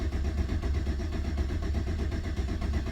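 A 2009 GM truck with a 5.3 engine and a fuel pump that is not running cranks without starting, a steady, continuous low mechanical churn heard close and alone for the whole stretch.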